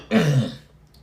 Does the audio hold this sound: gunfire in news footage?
no